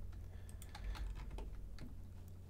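Clicks of typing on a computer keyboard while working in Blender geometry nodes, a quick irregular run of soft taps over a low steady hum, fairly quiet and with no talking.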